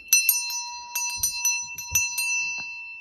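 A vintage hand bell bought at a boot sale rings a series of bright, shimmering strikes, some quick and some spaced, each leaving a clear metallic ring that fades, loud and close with no talking.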